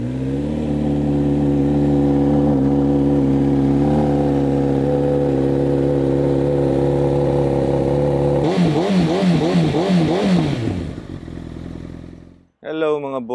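A 2022 Honda CB1000R Black Edition motorcycle idling loudly and steadily close by after a cold start, with a few throttle blips near the end before the engine cuts off abruptly.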